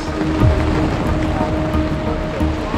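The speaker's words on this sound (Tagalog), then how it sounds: "First time kong nangyari sa akin to na lumakas ang ulan." Heavy rain pours down during a downpour in Pangasinan, a dense, continuous roaring wash that stays loud and close for the whole stretch, with no voices.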